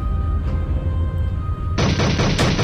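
Rapid automatic gunfire in the video game Aliens vs Romans, a low rumbling bed of shots that breaks into a loud, dense burst of fire partway through, close and continuous.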